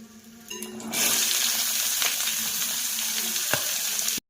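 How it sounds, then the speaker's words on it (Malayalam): Chopped small onions with curry leaves and spices drop into a hot pan and fry, giving a loud, steady sizzle close by that starts after a brief quieter moment and continues throughout, ending abruptly. "ഇനി ഇതിലേക്ക് ചെറിയ ഉള്ളി ചെറുതായിട്ട് അരിഞ്ഞിരിക്കുന്നത് ചേർക്കാം."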